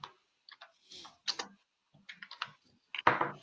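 Short bursts of keystrokes on a computer keyboard as a search is typed: scattered, quiet clicks in small clusters with pauses between them, ending in a louder clatter, close and without talk.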